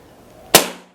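A single sharp air rifle shot, a budget Big Game model, fired at a paper target, cracking loud and close with a short decaying tail before quiet.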